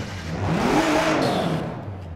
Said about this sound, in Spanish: Suena muy bien y se escucha el turbo soplar